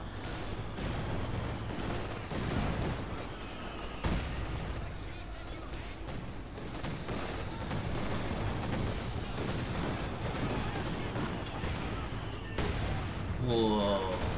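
Distant artillery shelling a building in the Company of Heroes 2 video game: a steady rumble of muffled blasts and gunfire under continuous game noise, with a player talking over it.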